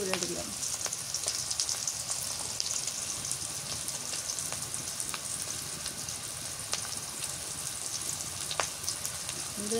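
Chopped banana stem with salt and turmeric sizzles steadily in a frying pan, a constant crackling hiss with occasional stirring clicks, close and even throughout, with no talking.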